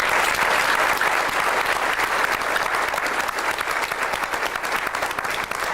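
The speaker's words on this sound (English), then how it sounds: "let's give them a round of applause" Guests at a senior football banquet give a loud, sustained round of applause for the players, a full room of clapping hands that stays strong and even throughout.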